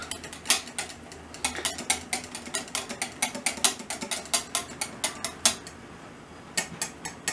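Whisk beating yogurt and eggs in a bowl, a fast run of sharp clinking taps against the sides in a steady rhythm, close and fairly loud, with no talk.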